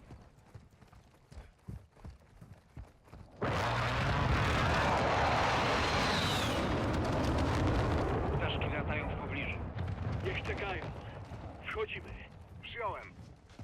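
A Call of Duty: Modern Warfare II campaign air raid: after faint murmuring, a sudden loud roaring blast swells and rumbles, followed by scattered high whines and booms.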